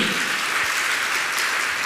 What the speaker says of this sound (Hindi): तालियां थोड़ा जोर से बजाइए